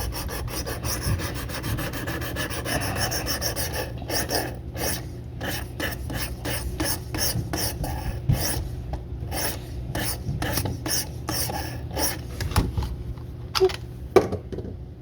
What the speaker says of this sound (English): Getting nice scratches the whole length of the blade.